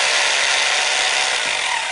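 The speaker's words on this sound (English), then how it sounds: "So you just go ahead and drill through the concrete" A hammer drill bores into concrete for pool slide bolt holes, a loud, close, unbroken grinding roar with no speech.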